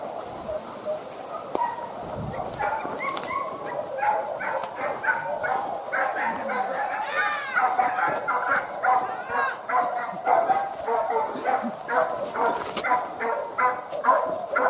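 Hunting dogs bark in repeated yelping bursts through a wild boar hunt in the outdoors, the calls coming steadily from some distance over a constant background hiss.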